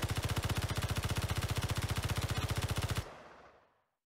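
An automatic rifle firing full-auto in Space Engineers, a fast, even burst of about three dozen close, punchy shots that stops abruptly and leaves a short fading echo.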